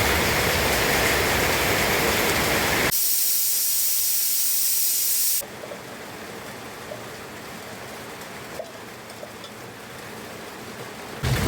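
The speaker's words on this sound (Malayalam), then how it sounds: "പാത്രം കഴുകിയതിൻ്റെ വാഷ് ബേസിനൊക്കെ ഒന്ന് കഴുകിയിടുകയാണ്" Tap water runs hard into a wash basin being rinsed after dishwashing, a loud steady gushing hiss that shifts in tone partway through, then drops to a softer trickle with small splashes and drips.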